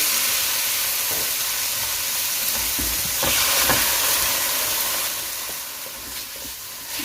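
Chicken fries in oil with ginger garlic paste for a red sauce pasta, giving a loud, close, continuous sizzle that swells briefly midway and eases slightly toward the end.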